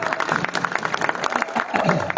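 An audience claps at an Urdu poetry recital, with dense, steady applause rippling through the hall for about two seconds, mixed with faint crowd murmur.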